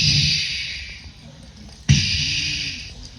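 A voice imitates a killer whale breaking the water and spraying, giving a long airy hiss that fades, then a sharp burst followed by another breathy spray sound, close and moderately loud.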